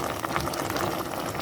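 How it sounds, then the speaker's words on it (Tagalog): A pot of coconut milk stew with tuna and vegetables bubbles at a steady boil, a dense continuous simmering hiss with soft pops. "kumukulo na"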